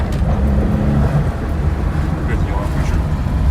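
A 1970 Porsche 911 T drives along, its engine a steady, loud low drone with road noise, heard from inside the car.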